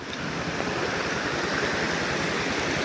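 Floodwater rushes after heavy rain in Junagadh, making a steady, loud broadband rush with no pauses.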